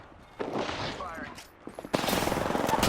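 Video game gunfire, first a muffled stretch of shots and then a dense, loud, continuous burst of rapid fire that runs to the end.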